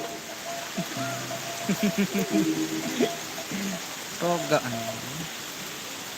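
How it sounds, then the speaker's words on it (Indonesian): Rain falls in a steady, hissing wash throughout, with people talking over it in several short bursts. "Hujan."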